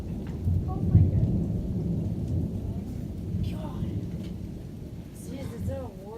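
Thunderstorm with continuous heavy rain and deep rolling thunder rumbles, loud and close, with a sharper crack near the start and voices talking faintly under the downpour.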